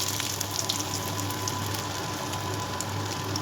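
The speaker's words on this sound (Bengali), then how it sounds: "এবার আমি সেই তেলের মধ্যে দিয়ে দেবো আদা কুচোনো" Chopped ginger dropped into hot frying oil sizzles steadily, a continuous close crackling hiss with faint pops throughout, no voices.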